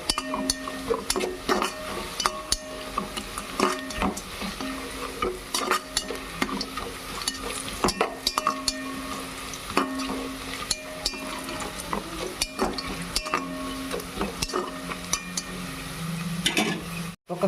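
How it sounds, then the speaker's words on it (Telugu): Cashew nuts fry in a pan while a spoon stirs them steadily, giving a continuous close sizzle broken by repeated scraping and clinking against the metal, without any voice. "కొన్ని జీడిపప్పు, కొంచెం వాటిని కూడా ఫ్రై చేసుకుందాం బాగా."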